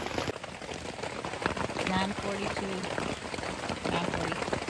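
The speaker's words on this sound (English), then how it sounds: "Still raining." Steady rain patters on a tent and tarp at a North Georgia campsite, a dense hiss that continues throughout while someone speaks briefly.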